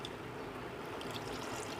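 Water poured into a pot of mutton and onions for a Punjabi-style karela gosht curry, a steady close splashing stream that runs unbroken and fairly loud throughout.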